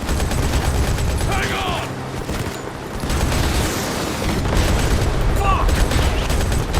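Video game combat in Modern Combat 5 fills the scene with dense, continuous gunfire and booming blasts, as soldiers shout over the din.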